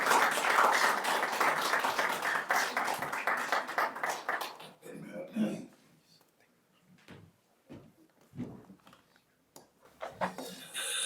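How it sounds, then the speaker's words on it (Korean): An audience at a commemorative committee launch ceremony welcomes a foundation chairman with dense, loud applause that fades after about five seconds. Scattered claps, footsteps and handling noises follow in a quieter room. "여러분 큰 박수로 송경 이사장님 맞이해 주시기 바랍니다."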